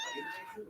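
A cat gives one short, close meow, clear and alone.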